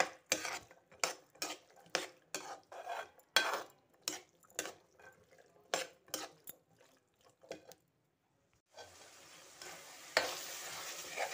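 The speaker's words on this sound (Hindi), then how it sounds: "ये देखें माशाल्लाह मटर हमारे अच्छी तरह भून गए हैं" Green peas for matar biryani frying in a pan, with repeated rhythmic stirring scrapes and clinks of a spoon against the pan, then a continuous close sizzle once the stirring stops, no talk.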